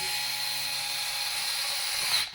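Close, steady high motor whine from a GTM SD 3.6 cordless screwdriver driving a screw in, holding an even pitch for about two seconds before stopping with a short clunk.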